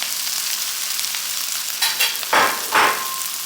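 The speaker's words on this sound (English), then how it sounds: "And as that gets foamy, we have our egg and vegetables. We're going to dump in." Egg and vegetables dropped into foamy butter in a pan for Korean street toast, a steady close sizzle that swells into a few louder bursts as the mixture goes in.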